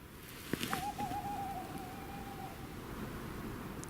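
A single long, wavering hoot from another tawny owl carries through winter woodland at night near a shelter, clear but not loud, with faint background hiss and no voices.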